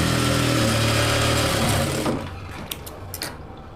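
A sewing machine runs steadily, stitching a half-inch seam along a blouse patti strip, then slows and stops, leaving a few small clicks of handling the fabric.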